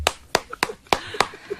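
Five sharp hand claps, spaced roughly evenly and close by, each a crisp broadband smack, with a few soft quiet sounds between them in an otherwise still room.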